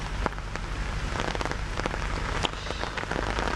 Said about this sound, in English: it continues to rain on and off